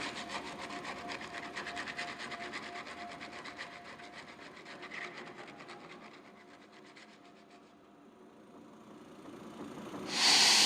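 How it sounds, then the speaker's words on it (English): An old building creaking and sighing on a frosty midnight, a long stretch of dry rasping, rubbing wood creaks that fade toward the end before a sudden bright hiss. "a dying building as it creaks and sighs in the midnight frost"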